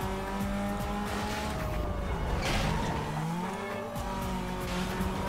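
Car engine in the racing game Need for Speed Most Wanted, a loud continuous roar with rising and falling revs, accompanied by tire squeal and game music, with no talking over it.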